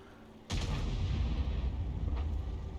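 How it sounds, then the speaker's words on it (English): An SU-8 self-propelled artillery gun fires in World of Tanks: one sudden, loud, close boom, followed by a heavy, sustained low rumble that carries on to the end. "So I'm going to fire something in there."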